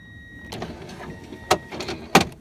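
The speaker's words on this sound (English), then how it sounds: "I'm gonna lower the window." Toyota Tundra pickup with the engine running, power window lowering in short whirring bursts with thumps and clicks, close-up, over a low idle hum.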